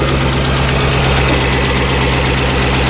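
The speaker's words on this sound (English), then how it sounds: "that's the first time this truck's been started in 4 or 5 months" Truck engine idling steadily after a jump start from a portable jump box, following months of sitting unused, a close, even low rumble with a regular mechanical pulse and no talking.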